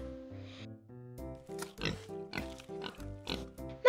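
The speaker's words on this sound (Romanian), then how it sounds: "Mami, uite un porc!" A pig grunts and oinks in a run of short, repeated snorts, fairly quiet and close.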